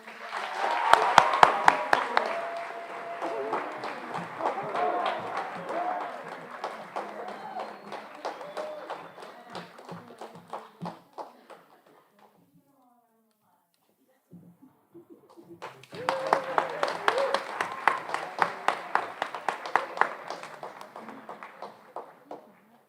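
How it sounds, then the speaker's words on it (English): Audience applause at a high school senior awards night, a dense burst of clapping that fades out, pauses in near silence, then swells again with a second round of clapping. "So please give them all a round of applause."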